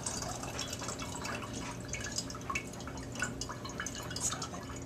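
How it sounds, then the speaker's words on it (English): Chicken broth from a cooked whole chicken being poured off and strained, a steady close trickle and drip of liquid running continuously throughout with no talking. "I decided to go ahead and pour off the broth so you can see how much I got before I start the other chicken."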